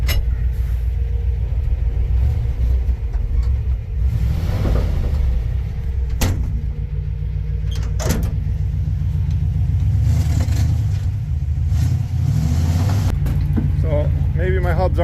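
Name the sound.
vehicle engine revving, drive shafts spinning but not moving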